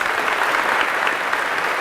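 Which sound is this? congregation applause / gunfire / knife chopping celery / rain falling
congregation applause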